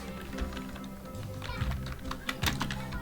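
Fast, uneven clatter of keys on a computer keyboard, close and fairly quiet, with irregular bursts of presses and a few heavier taps.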